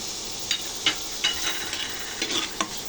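Chopped onion and garlic frying in hot oil in a pot, bright crackling sizzle with several quick stirring scrapes spaced through, close and without speech.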